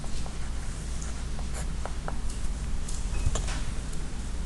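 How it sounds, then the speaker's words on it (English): Hand writing on paper or a board while an equation is set out, a close run of soft scratching strokes and small taps with irregular rhythm, fairly quiet and without talk. "So I'm going to write given."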